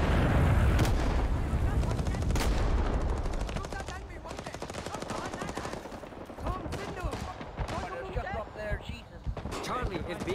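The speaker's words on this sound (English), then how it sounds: "But we're taking heavy fire here." Dense gunfire and artillery in the video game Rising Storm 2: rapid machine-gun bursts and heavy booming blasts, loud and continuous, with voices talking over the battle.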